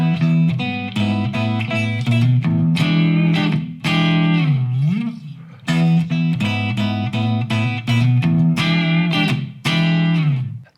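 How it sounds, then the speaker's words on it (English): Electric guitar playing a riff with hybrid picking, adding open first and second strings, with a loud, distorted tone, choppy repeated phrases, a slow wavering bend near the middle and brief gaps between runs, unaccompanied. "The actual version adds the open strings of string 1 and string 2 to our pattern or riff and sounds like this."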